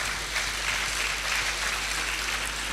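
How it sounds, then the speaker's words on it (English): An audience at a university lecture on Nigeria's power network claps for women professors, a steady, even applause that holds loud throughout, with no voices. "Please, let's clap for the women in particular."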